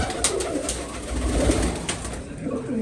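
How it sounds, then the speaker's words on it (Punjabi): Several pigeons coo softly and continuously inside an enclosure alongside their young, a low murmuring chorus with occasional sharper taps and rustles, close by and with no talking. "ਇੱਧਰ ਸਾਰੇ ਕਬੂਤਰ ਆ"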